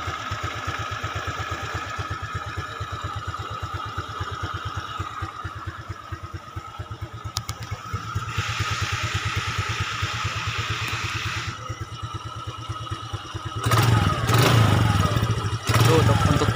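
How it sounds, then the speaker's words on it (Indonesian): A Suzuki Skywave 125 motor scooter engine runs steadily at idle, then revs up sharply in loud bursts near the end. "Ini untuk suara mesinnya."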